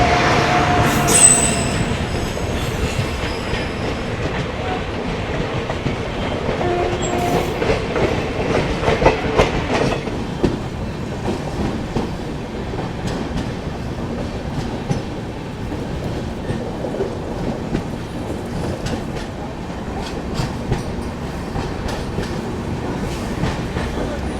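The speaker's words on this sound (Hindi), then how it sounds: "ये देखिए सामने से आ रही है बेलूर घाट इंटरसिटी एक्सप्रेस ट्रेन।" Balurghat Intercity Express train passing at Kishanganj railway station, heard from aboard another train arriving there, with continuous rail rumble, rhythmic wheel clatter and occasional squeals and clanks throughout.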